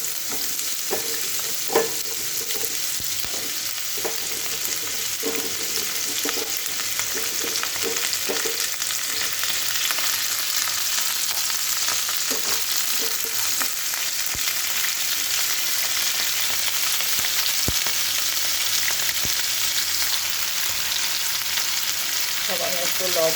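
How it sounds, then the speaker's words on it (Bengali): Drumstick vegetable pieces frying in hot oil in a wok make a dense, continuous sizzle throughout, close and steady, with occasional soft clicks of stirring and no talk. "কেটে ধুয়ে রাখা সজনাগুলো আমি ভেজে নেব হালকা করে।"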